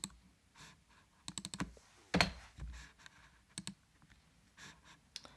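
Code is typed on a computer keyboard in an Azure Machine Learning session, with clusters of quick, close key clicks and one louder clack, separated by short quiet gaps.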